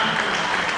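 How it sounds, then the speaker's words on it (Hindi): Audience applause for a poet at a Hindi poetry stage event: a short, dense burst of steady clapping close by, filling the brief moment with no voices over it. "जोरदार ताली बजाओ इनके लिए।"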